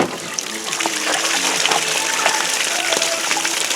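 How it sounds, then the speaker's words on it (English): Gray water from the sink and shower of a 2019 Palomino Solaire Ultra Lite 258RBS travel trailer gushes steadily out of the open gray tank valve, a continuous loud splashing rush with no talk. "the gray valve, which is right over here, that is sink and shower water. I'll dump that too."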